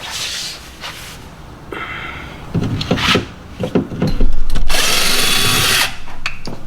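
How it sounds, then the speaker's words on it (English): A power drill backs Phillips head screws out of the door speaker mount of a 1993-2001 Acura Integra, giving short whirring bursts and clicks up close, ending in a longer loud run. "My dad's going to go ahead and use the drill."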